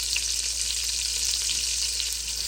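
Pearl onions sautéing in a pan for beef bourguignon, a steady close hiss of sizzling oil that stays even and unbroken throughout.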